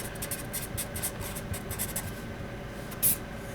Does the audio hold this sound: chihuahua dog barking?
no